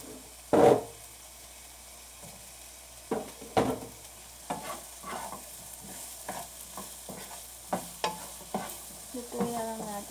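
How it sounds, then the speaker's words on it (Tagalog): Fresh tomatoes cooking in a pan, a soft frying sizzle under repeated scraping stirs of a spoon, several distinct clacks spaced irregularly through the quiet kitchen. "Lutuin lang natin yung kamatis na maigi"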